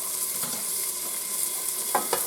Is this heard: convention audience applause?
no